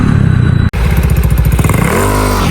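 A motorcycle engine revs hard and loud up close for a wheelie, with a steady throbbing drone, a brief sharp cut-out, then rising and falling throttle under clattering.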